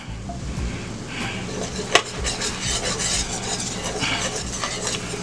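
Flour being stirred into fat in a pan for Southern scalloped potatoes, giving a continuous close scraping and rasping of a utensil against the pan with one sharper clink partway through.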